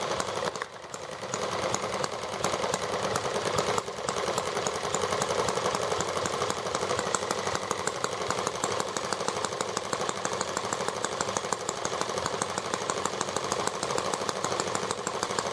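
An ET8 scooter engine running at a steady fast idle after a carburetor fix, a continuous buzzing drone with slight dips, fairly close, with no talk.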